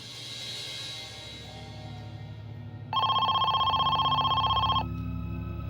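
A telephone rings in a tense ransom-call scene, its electronic trill pulsing rapidly for about two seconds, loud and close over a low ambient background, then cutting off.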